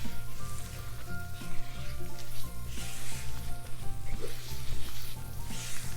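Flour is stirred into butter and softened onions in a hot pan for a chicken pot pie, with a steady loud sizzle and an occasional soft scrape of the spoon.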